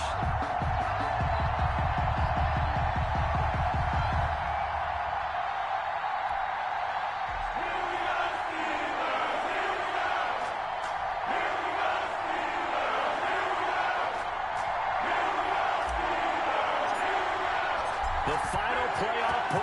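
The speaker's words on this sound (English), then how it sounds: "This crowd is ready as their guys get set to match up between the Cincinnati Bengals and the Pittsburgh Steelers." Stadium crowd noise in an EA Sports NFL video game, Cincinnati Bengals at Pittsburgh Steelers in week 12, a steady loud roar of cheering fans running throughout, with commentary voices over it.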